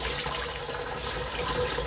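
A Tefal Washboy portable washing machine emptying its water, a steady, close rushing and gushing of draining water that runs without a break and with no talking.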